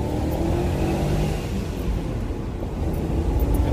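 A BMW E39 540i V8 revs hard toward its rev limiter while driving on a road, a loud continuous engine roar that dips briefly mid-way and then climbs again.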